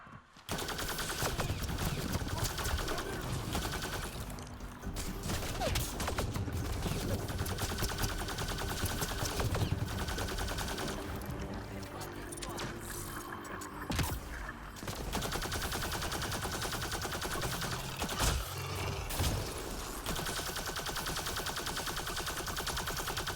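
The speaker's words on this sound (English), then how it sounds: "See how the SMG does" Sustained rapid SMG gunfire in a video game, a dense continuous rattle of automatic bursts running almost the whole time with only a few brief gaps, loud and close over constant game noise.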